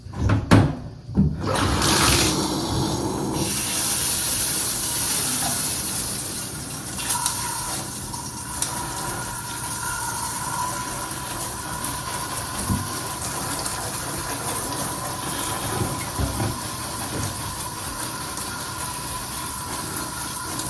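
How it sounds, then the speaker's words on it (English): Water from a tap or hose rinses dust off a large Hoya houseplant's foliage and soil, a steady broad gushing spray running nearly continuously and fairly loud after a brief handling sound at the start. "I'm just gonna go and rinse the Hoya."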